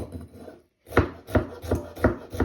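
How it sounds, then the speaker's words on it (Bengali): A knife finely chops cucumber on a board, a steady run of crisp, close chopping strokes after a brief pause. "শসাটা কুচি করে অল্প একটু দিতেছি"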